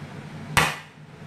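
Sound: smashing cooking ingredients before cutting

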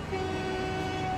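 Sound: train horn in Transport Fever 2 video game

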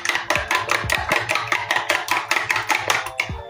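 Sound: whisking eggs with cinnamon

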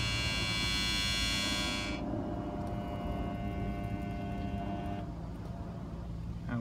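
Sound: washing machine motor running on a variac

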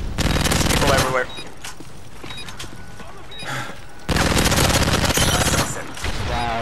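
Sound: gunfire in Call of Duty: Modern Warfare 3 video game

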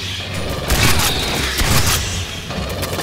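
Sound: gunfire in video game Aliens Fireteam Elite

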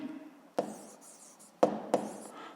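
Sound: writing notes

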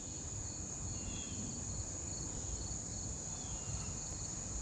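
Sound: insects buzzing around a small creek

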